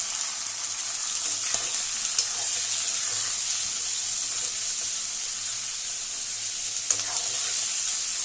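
Chicken liver pieces frying in a pan, a steady close hiss of sizzling oil throughout with a few faint clinks.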